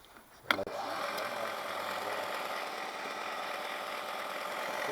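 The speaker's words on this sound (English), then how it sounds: "we found the belt sander" A belt sander starts with a sharp clunk, then runs in a steady, loud whirring drone while sanding parts during a Westwood 42-inch cutting deck repair for a T1200 diesel ride-on mower.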